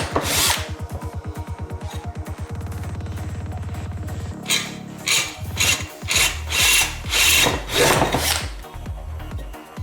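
A power drill bores through a plastic car headlight housing, widening a pilot hole: a steady buzzing whine that shifts pitch as the bit bites, then several short bursts of drilling with brief pauses between.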